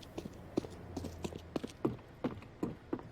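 Footsteps on a map in Counter-Strike's Vertigo during a professional esports match, a series of about eight quiet, evenly spaced thuds at a walking pace, faint against a low game hum.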